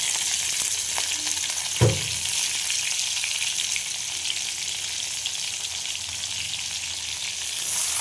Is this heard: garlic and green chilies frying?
yes